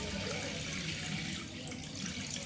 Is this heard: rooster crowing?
no